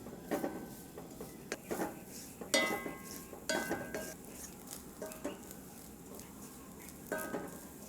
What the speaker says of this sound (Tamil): அடுத்தது நம்ம துருவி வச்சுருக்கிற தேங்காயும் வறுத்து எடுத்துக்கலாம்.